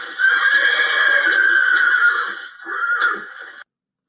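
A horse lets out a loud, drawn-out whinny close by, holding a wavering high tone for about two seconds, then breaking into a shorter second neigh before cutting off abruptly into silence.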